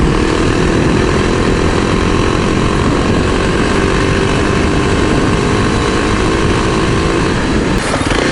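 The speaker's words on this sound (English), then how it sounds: "See how the old KLX handles a little higher speeds off-road." A 2023 Kawasaki KLX 300DS dual-sport motorcycle runs off-road at around 50, its engine a loud, steady roar blended with constant wind noise, close and unbroken throughout.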